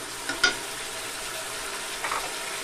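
Spice paste fries in a pan over raised heat, giving a steady soft sizzle with a couple of brief stirring scrapes, close and moderately quiet.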